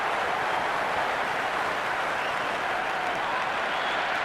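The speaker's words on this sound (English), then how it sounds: "It's evident and ever so audible that the crowd is at near bursting point at today's play." A packed cricket stadium crowd at a T20 semi-final roars and applauds in a dense, continuous wash of cheering and clapping, loud and sustained without a break.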